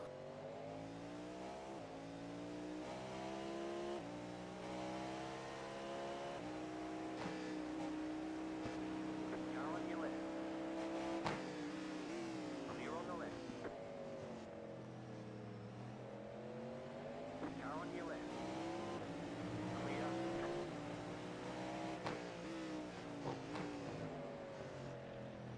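Race cars including a Ferrari howl through gears in an endurance racing video game, with repeated rising and falling engine tones and layered revving under intermittent talk.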